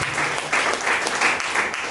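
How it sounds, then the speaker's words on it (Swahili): A church congregation applauding loudly and enthusiastically at a sermon, a dense sustained wash of clapping that swells in rhythmic waves throughout. "Tumpige Bwana makofi makubwa sana."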